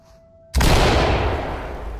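A flashbang grenade goes off in the tactical shooter Ready Or Not: after near silence comes one sudden, loud, full-bodied blast whose roaring tail rings on and fades slowly.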